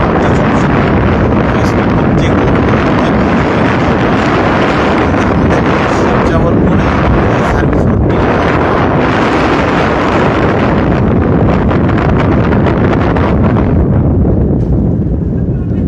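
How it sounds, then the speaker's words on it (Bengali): Strong wind sweeps over the river at a ferry ghat, roaring and buffeting the microphone in a constant, loud rush with gusty surges throughout. "বাতাসের সাউন্ডটা খুবই বেশি বাতাসের খুব বেশি হচ্ছে"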